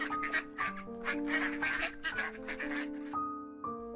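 Cartoon ducks at a pond quack in a rapid, fairly loud sequence of nasal calls, several overlapping quacks before a brief gap and a final few.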